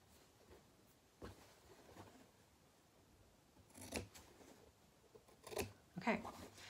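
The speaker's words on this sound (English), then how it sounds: "And now I'm gonna cut the corners." Scissors snip the corners of a sewn fabric face mask, a few faint, quick cuts scattered across a quiet room, grouped more closely toward the end.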